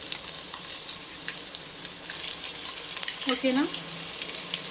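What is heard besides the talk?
ginger paste frying in a pan for chicken pulao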